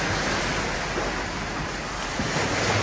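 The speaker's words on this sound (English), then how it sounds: "The waves are touching the rocks" Ocean waves break against rocks on a North Norfolk beach, a loud continuous wash of surf with some wind noise and no speech.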